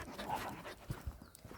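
A collie pants softly in the woods with quick, faint breaths and an occasional small whimper.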